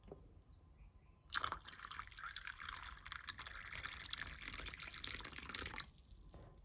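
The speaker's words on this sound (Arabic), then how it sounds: "بحط شوية مية كده الاول" Warm water pours onto honey in a cup, a steady splashy stream that starts abruptly, runs continuously for several seconds close by, then cuts off, with faint drips before and after.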